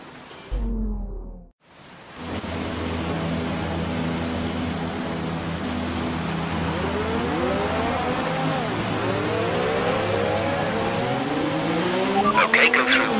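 Formula 1 cars in the F1 2019 racing game at the Spain Grand Prix, engines droning steadily with revs sweeping up and down, growing busier and louder toward the end, while a voice talks over them.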